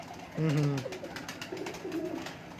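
A male Master Abdullah pigeon gives a few low, throaty coos close by, one strong call early followed by softer, shorter ones, over a quiet background.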